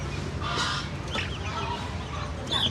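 Chickens and other fowl cluck and squawk in a busy, noisy yard, with overlapping calls throughout and a few sharper cries standing out.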